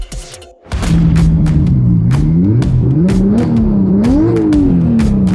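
A loud, throaty Volkswagen Golf engine with its silencers removed rumbles up after a brief quiet, idling and revving with a raw, unmuffled exhaust growl, close and continuous.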